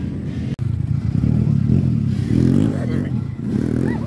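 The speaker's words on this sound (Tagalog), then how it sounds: "Naririnig ko na yung mga motor, ah." Trail-riding motorcycle engines rumble and rev nearby at an event, a continuous low drone that swells and eases, with people talking over it.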